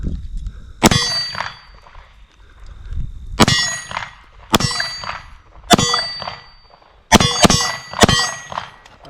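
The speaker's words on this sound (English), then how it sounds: "it's a little bit recessed right here to where you can strip that mag out if you need to" Magazine stripped out of a Walther PDP SD Pro Compact pistol: a series of loud, close metallic clangs with ringing tails, coming singly and in quick pairs, with no talking.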